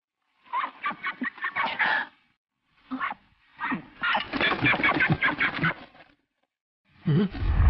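Duck quacking in a series of short, nasal calls in quick bursts, with pauses between groups, fairly close and clear with no talk over it, heard in a dubbed Chinese martial-arts period drama.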